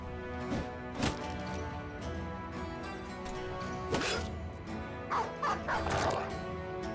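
Game war dogs in Battle Brothers Reforged bark and snarl during a melee fight, with sharp repeated barks and yelps over a busy background of combat effects.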